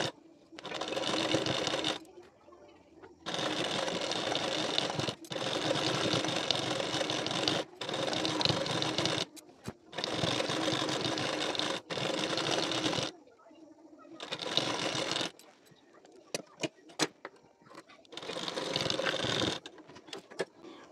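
A sewing machine stitches a strip onto the collar of a blouse in loud, close bursts of fast whirring, each lasting a few seconds and separated by short pauses and some light clicks.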